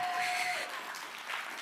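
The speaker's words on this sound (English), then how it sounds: "Let's continue to clap for Connie L." Audience applause at a TEDx event at Columbia College, South Carolina, a short continuous wash of clapping that softens slightly midway, with no voices over it.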